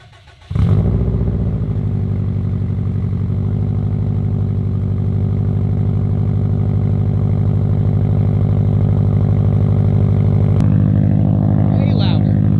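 A Subaru with an Invidia downpipe and full 3-inch exhaust fires up after a short quiet moment, then settles into a loud, steady, deep exhaust drone held close for the rest of the stretch without distinct revs.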